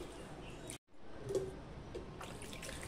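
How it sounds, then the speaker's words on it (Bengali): Flattened rice (poha) being rinsed in changed water in a kitchen, with gentle close-up sloshing and trickling that stays quiet and steady, broken by a brief pause, with no talking. "জল পাল্টে ভালো করে ধুয়ে নিচ্ছি"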